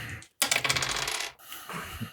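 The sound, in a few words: dice rolling on a table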